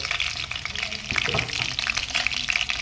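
Slit green chillies and bay leaf fry in hot oil with a busy, crackling sizzle and occasional sputtering pops, fairly close and continuous.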